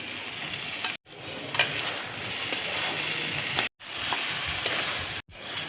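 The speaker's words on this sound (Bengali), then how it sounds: "এবার আমি এঁচোড়টা দেখো দিয়ে দিচ্ছি" Young jackfruit fries in a cooked-down spice paste, giving a dense continuous sizzle with faint scraping, cut by three brief silent gaps.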